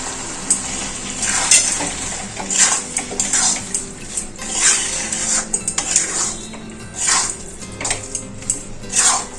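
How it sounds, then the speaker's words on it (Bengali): Mung dal being stirred with spices in a pan on low heat, a metal spoon scraping and clinking against the pan in irregular bursts, close and clear, with a faint background hiss. "মশলার সাথে মুগের ডালটা খুব ভালো করে মেশানো হয়ে গেল।"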